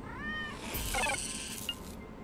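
A cat in the video game Tales of the Neon Sea gives a clear, close meow, a drawn-out rising then falling cry, with a faint second mew just after.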